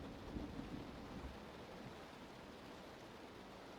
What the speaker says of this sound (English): I hope the rain's not too loud.